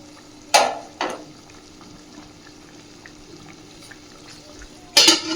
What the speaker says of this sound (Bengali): এইবার খুব হালকাভাবে সব কিছুকে মিশিয়ে দিয়ে মিনিট 5-7 জন্য ঢাকা দিয়ে দিতে হবে।